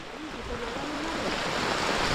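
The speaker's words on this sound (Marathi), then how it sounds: "नदीला पाणी आलंय बघा" Fast-rising river in flood during heavy monsoon rain in a Konkan village, giving a steady, loud broadband rush of water that swells slightly and continues throughout, with faint wind buffeting.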